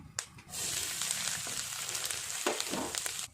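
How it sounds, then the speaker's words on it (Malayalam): Curry leaves dropped into hot coconut oil for a Kerala erissery hit with a sudden burst, then settle into a loud, steady sizzle and fry close by before stopping. "കറിവേപ്പില ഇട്ട് കൊടുക്കാം."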